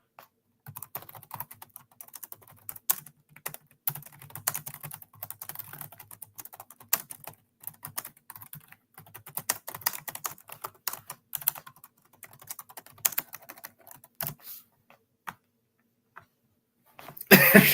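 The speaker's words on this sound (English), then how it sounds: "just going to write this up for Pamela." Typing on a computer keyboard, a steady run of close, crisp key clicks with brief pauses, ending in a louder burst of noise.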